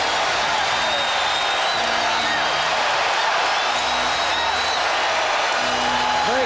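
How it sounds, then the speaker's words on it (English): A packed basketball arena crowd roars and cheers in a standing ovation at a Rockets at Lakers game in 2003, a dense, continuous wash of voices and applause that stays loud and unbroken throughout. "Standing ovation for Kobe Bryant."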